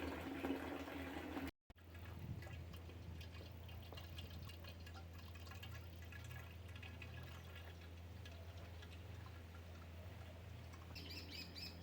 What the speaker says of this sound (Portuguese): para encher os 200 litros com essa quantidade de água que está saindo